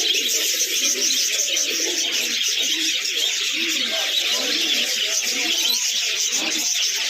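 Many birds call at once, with repeated soft cooing of doves over a dense, steady background chatter.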